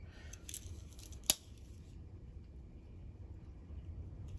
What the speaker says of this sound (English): So this one also has the scissors